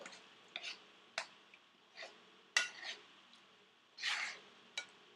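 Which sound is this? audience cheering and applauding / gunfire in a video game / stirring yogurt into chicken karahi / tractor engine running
stirring yogurt into chicken karahi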